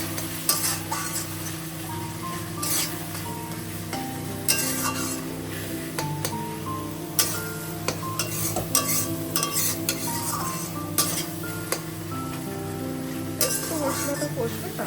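A pot of fish and potato curry is stirred, with repeated scraping and clinking of a utensil against the pan over a low background sizzle, in uneven bursts.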